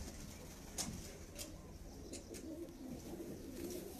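A female pigeon coos softly in low, throaty murmurs over steady background noise, with a few sharp chirps and brief clicks nearby.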